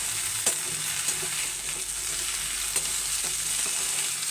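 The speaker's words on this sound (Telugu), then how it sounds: "ఇలా వేగుతుంది. ఇంకా రెడ్గా అవ్వస్తుంది." Okra masala frying in a pan for a Punjabi-style curry, a continuous bright sizzle with a few sharp pops and the occasional stir, close and alone with no talking.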